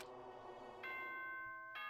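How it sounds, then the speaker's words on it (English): A school broadcast chime from the video game Danganronpa 2 rings out in clear tones, first faint and then brighter and louder, with a final tone struck near the end. "Oh, ding dong bing bong."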